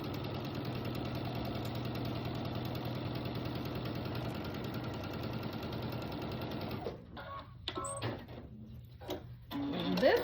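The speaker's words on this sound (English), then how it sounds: "And then I'm going to sew it across that line, just like I did the sashing." A sewing machine stitches fabric pieces of a fall pumpkin door hanger together across a marked line, whirring continuously and evenly for several seconds before stopping, followed by a few faint handling clicks.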